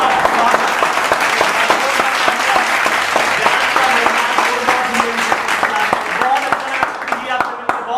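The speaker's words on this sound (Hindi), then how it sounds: "जोरदार तालियां।" A studio audience at a televised talent show breaks into loud, sustained applause, dense clapping from many hands filling the room steadily and continuing without a break.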